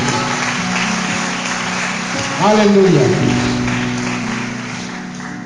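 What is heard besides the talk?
church congregation applauding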